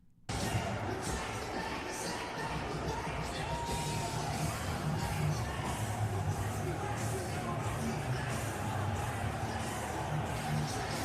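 Dense crowd noise surrounds the President of the United States, a steady roar of many voices with scattered yells and whoops, close and sustained throughout.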